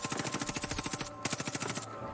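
Rapid automatic gunfire from the video game Far Cry 5, two fast bursts of evenly spaced shots separated by a brief gap, fairly close and without talk.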